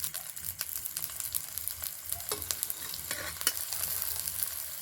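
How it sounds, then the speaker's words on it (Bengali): A paratha frying with a little oil added from a spatula, with a soft continuous sizzle and repeated light scraping taps of the spatula on the pan. "এবারে খুন্তিতে করে অল্প একটু করে তেল দিয়ে ভেজে নেব"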